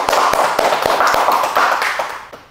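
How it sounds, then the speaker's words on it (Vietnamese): Hands clapping in an English pronunciation class, a quick run of sharp, fairly loud claps that thin out and fade toward the end. "Vỗ tay."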